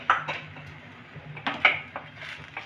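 Spoon scraping and knocking in a pan while roasted peanuts and coriander are stirred into spiced potato, a few sharp clinks and scrapes spaced irregularly, close and fairly quiet.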